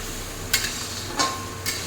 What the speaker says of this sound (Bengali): আদা রসুনের কাঁচা ভাব যাওয়া পর্যন্ত হাই ফ্লেমেই ভাজতে হবে, এবং যাতে না তলায় লেগে যায় বারবার এটাকে নাড়তে হবে।